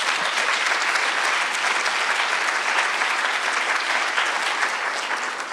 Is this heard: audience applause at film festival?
yes